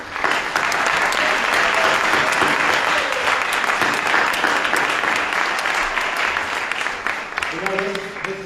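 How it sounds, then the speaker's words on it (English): An audience at a Dr. Martin Luther King Jr. celebration event breaks into sustained, loud applause that fills the room from start to finish, with a voice briefly heard near the end. "let's have a big round of applause for that."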